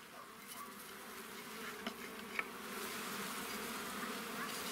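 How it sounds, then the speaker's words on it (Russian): Honey bees in an open beehive hum as a soft, continuous and fairly distant drone, with a few faint clicks partway through. "Зашевелились пчелки."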